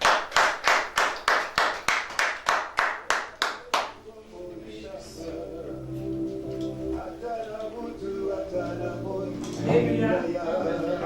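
Worshippers at a church service clap hands together in a steady, loud rhythm of about a dozen sharp claps, then stop as a murmur of voices and music carries on underneath.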